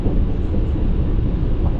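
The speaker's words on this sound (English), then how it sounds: "This train does have a lot of fans" Loud, steady broadband rumble and whoosh inside a regional train, with many ventilation fans running continuously alongside rolling noise, filling the space evenly with no pauses.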